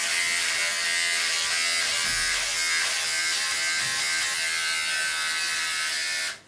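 An electric razor shaves a balding man's head, its close, steady buzz running continuously and loudly before cutting off abruptly at the end.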